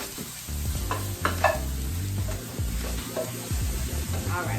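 Plant-based taco filling with taco seasoning cooking in a pan, sizzling and crackling steadily up close while a utensil stirs and scrapes it in short bursts.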